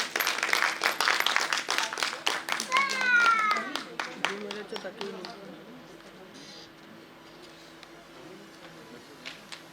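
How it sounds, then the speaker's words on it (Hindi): Audience clapping at a Jain institute's golden jubilee ceremony to welcome the guest of honor onto the stage, dense and lively at first, then thinning out and fading into quieter scattered claps with voices speaking. "सब तालियों से स्वागत करेंगे उनका"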